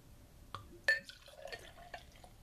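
Beer poured from a bottle into a glass: a few splashy, gurgling bursts and drips, with one sharper glug in the middle, close and fairly quiet.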